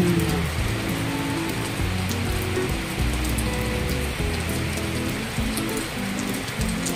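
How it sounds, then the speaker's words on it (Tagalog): Steady morning rainfall in Bohol, Philippines, patters on surfaces in a constant wash, with low rumbling tones underneath and no voices. "May bagyo sa Luzon pero dito sa amin sa Bohol umuulan."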